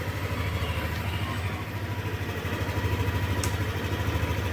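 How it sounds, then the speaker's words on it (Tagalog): A Yamaha Aerox 155 scooter idles close by, its engine and muffler giving a steady low pulsing thrum with an even rhythm and a faint high tick in the background. "Sa kanya naman pong muffler, walang problema, walang pagbabago po sa tunog."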